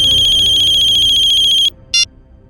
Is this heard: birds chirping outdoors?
no